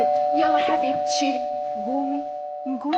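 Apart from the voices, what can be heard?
doorbell ringing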